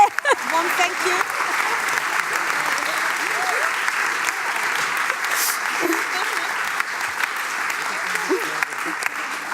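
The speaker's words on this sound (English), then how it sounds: "give us a warm applause" A theatre audience at a talk on the wasted city gives sustained, even applause, a dense wash of clapping that carries on throughout.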